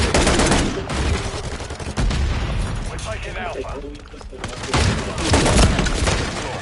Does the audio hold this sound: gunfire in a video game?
yes